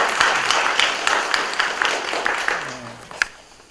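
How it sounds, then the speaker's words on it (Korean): A Buddhist temple congregation at a Thursday dharma gathering gives brief scattered applause, a handful of separate claps building into a light patter that fades, while a voice murmurs near the end. "한번 박수를 치고 시작할까요?"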